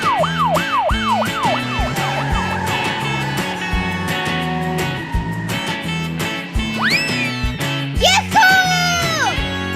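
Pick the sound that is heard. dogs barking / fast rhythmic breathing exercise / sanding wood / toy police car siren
toy police car siren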